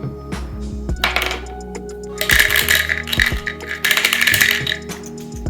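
Dice rolled for a random-graphing art project clatter and rattle across a hard surface in two or three separate bursts of sharp clicks. The throws are loud and close, with no talking.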